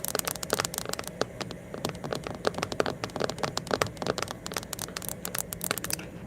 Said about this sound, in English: Do you guys like the rain sounds?